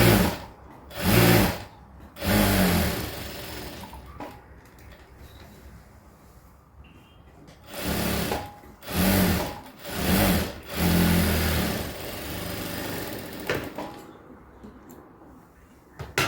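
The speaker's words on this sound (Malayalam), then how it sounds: "ഈ ക്രോച്ച് ഏരിയ സ്റ്റിച്ച് ചെയ്ത് കൊടുക്കാവേ" A sewing machine stitching the crotch seam of straight-cut pants: several short, loud whirring runs of stitching with quiet pauses between them, close by.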